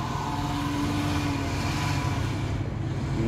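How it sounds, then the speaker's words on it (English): Street traffic beside the Graceland gate in Memphis, a continuous loud engine rumble and road roar from passing cars, steady throughout and fairly close. "you can hear some crazy cars behind us"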